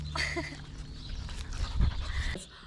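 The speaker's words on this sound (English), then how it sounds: "really missed the dogs" Dogs on a farm in rural France, heard as close panting and a few soft whimpers over outdoor background noise, with a low thump near the end.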